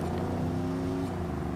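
Car engine in the Watch Dogs video game, a fast GTR-style car held at a steady high drone with harmonic whine, loud and continuous with no talk.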